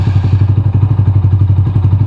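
A Sigma 250 motorcycle fitted with an SC Project exhaust with a dual silencer revs close by, a loud, steady engine drone with a fast, even pulsing beat.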